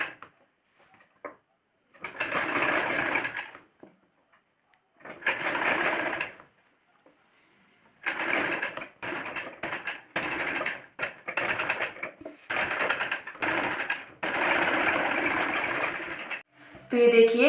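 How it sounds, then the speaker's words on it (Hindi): A sewing machine stitches a folded kurta neck band in repeated bursts of rapid, close-up whirring, with short pauses between runs and a brief sharper sound at the very end. "तो चलिए सिलाई लगा लेते हैं।"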